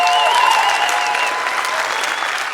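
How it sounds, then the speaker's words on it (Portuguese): An audience claps steadily for a few seconds during a Brazilian stand-up comedy routine, the applause dense and even with a few faint whistles above it and no talking. "palmas."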